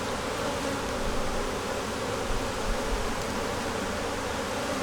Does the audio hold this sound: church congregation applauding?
no